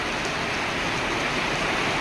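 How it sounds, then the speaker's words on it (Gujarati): Heavy rain pours down in a continuous, uniform hiss with no pauses or distinct drops, steady and fairly loud throughout with no talking. "જોઈ શકો છો આવો છે વરસાદ"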